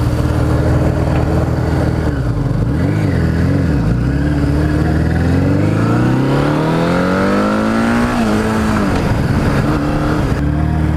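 Dirt bike motorcycle ridden over gravel, a loud close engine drone with gears shifting and revs climbing steadily, then dropping, with no talking.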